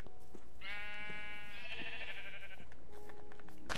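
A sheep in Minecraft lets out a long, wavering, bleating baa, loud and alone over faint game ambience.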